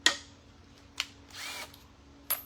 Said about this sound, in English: Now these are flathead screws, which I'm gonna be honest, are not my favorite thing in the world to work with a drill.